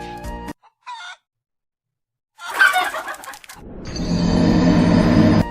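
Chicken swarm in the video game Plants vs Zombies 2, Wild West level: a short blip, a pause, then a burst of loud squawking and crowing followed by a dense, sustained game noise.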